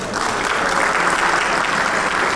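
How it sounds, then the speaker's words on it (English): Steady, dense applause from an audience at a book unveiling for a startup ecosystem publication in Punjab, filling the whole moment evenly without any break. "I think there needs to be applause when the ribbons come out."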